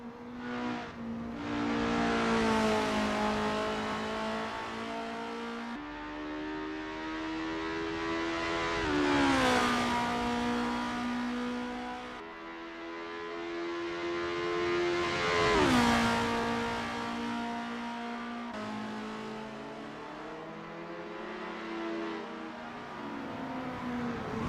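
Formula race car in the sim racing game Assetto Corsa on a practice out lap, engine rising in pitch through each gear then dropping sharply at shifts, repeated several times, loud and close with no talk.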